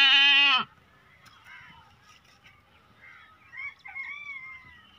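A goat bleats loudly and briefly at the start, close by, then fainter higher calls from young kids follow over a quiet farmyard background.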